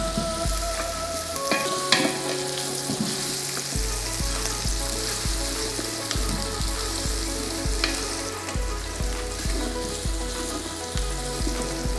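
Chopped onions for biryani fry in hot oil with a steady loud sizzle, while a spoon scrapes and knocks against the pan in a repeated rhythm, close up and constant.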